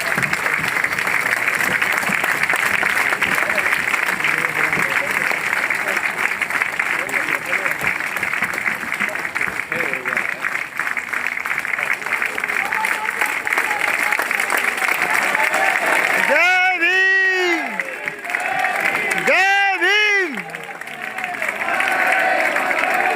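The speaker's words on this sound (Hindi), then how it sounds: "साहब जोरदार तालियां खड़े होकर के बजाइए भाई" Loud, sustained applause from a standing audience at a Constitution Day celebration in Delhi, dense clapping filling most of the stretch with crowd noise, dipping near the end as a voice comes through.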